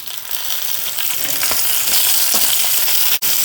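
Chillies and shallots fry steadily in a hot pan for a Kerala-style chammanthi, giving a dense, continuous sizzle and crackle. A few stirring scrapes sound close, and a brief dropout comes near the end.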